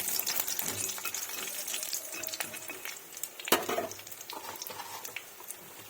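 Lentil dumplings (bori) frying in oil in a pan with a bay leaf and dried chili for tempering, a soft continuous sizzle broken by scraping spatula strokes and a sharp metallic clink near the middle.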